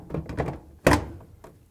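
A Whirlpool appliance door is hung by setting its two hooks into slots, giving a single solid thunk after some shuffling handling noise, close and fairly loud.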